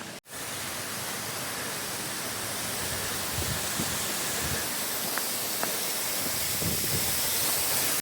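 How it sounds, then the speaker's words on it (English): Grotto Falls waterfall roaring steadily up close, a dense unbroken rush of falling water that fills the whole clip at a constant loud level. "what's special is that you can kind of walk under and through the waterfall"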